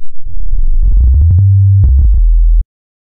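A pure synthesizer sine tone steps through low pitches with clicky onsets, then cuts off abruptly into silence.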